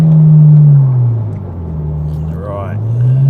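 Engine drone of a Mitsubishi TME RS with no sound deadening, heard from inside the cabin: a loud low hum that rises and falls as revs change, with a voice speaking briefly over it.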